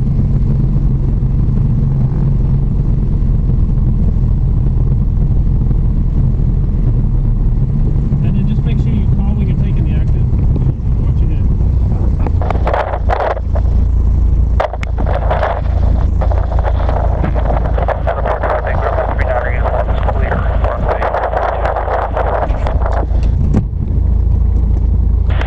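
Light aircraft engine during a student pilot's solo flight, a steady loud drone heard from the cockpit under heavy wind noise, with brief bursts of talk partway through.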